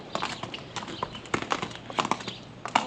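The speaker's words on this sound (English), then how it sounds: "I hear a horse." Horse hooves clip-clop near a hay farm as a series of sharp, uneven clops, fairly close and clear against a quiet background, with no talking.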